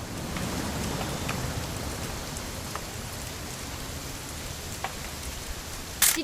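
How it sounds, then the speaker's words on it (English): Steady rain falls in the video game What Remains of Edith Finch, a soft continuous hiss of drops at moderate distance, unbroken for several seconds, with a brief sharper sound near the end. "It's gonna rain the whole weekend,"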